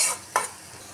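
Onion and garlic sizzling in hot oil for a greens stir-fry, a soft steady hiss with one brief scrape of a stirring spoon.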